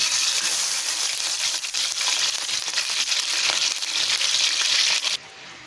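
Frozen chicken dropped into hot oil in a karahi sizzles and crackles loudly and continuously for about five seconds, then the sound drops sharply to a much quieter fizz.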